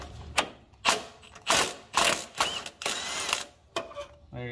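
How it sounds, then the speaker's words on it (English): An impact wrench works loose a car's O2 sensor in a series of loud, rattling bursts, each about half a second long, with short gaps between them. "we'll just use an impact to take it out."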